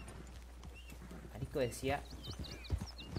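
Horse hooves clip-clop at a walking pace in the Red Dead Redemption 2 video game, fairly faint and partly covered by someone talking.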